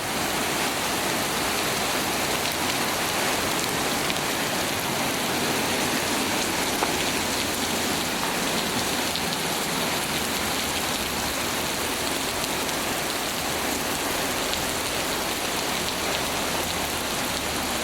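Very heavy rain with hail pours steadily and loudly in Antalya, a dense hiss of drops hammering surfaces with no break and no voices.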